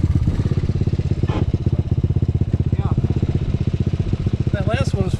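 A 1983 Honda ATC185s/XR200 three-wheeler with a big-bore aftermarket exhaust pulls hard in fourth gear, its loud, close, steady rapid-firing engine drone holding throughout, with a brief shout near the end.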